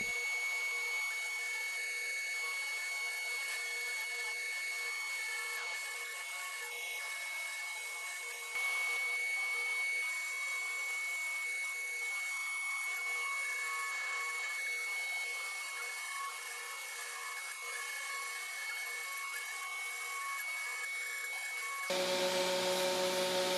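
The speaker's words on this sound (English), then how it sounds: "I did an initial sanding with my random orbit sander" A random orbit sander sanding wood gives a steady, high-pitched whirring with a constant tone, running continuously, then cuts to a different sound near the end.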